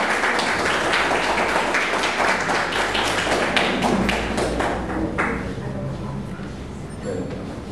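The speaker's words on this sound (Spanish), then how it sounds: "Vamos a recibirlos con un fuerte aplauso," An audience claps at an evening event to welcome guests, a dense, steady wash of applause that fades slightly toward the end, with some voices mixed in.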